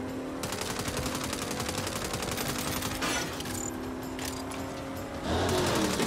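Rapid gunshots in Saints Row, continuous automatic fire rattling loudly and close throughout, with a brief shift and a fresh heavy burst near the end.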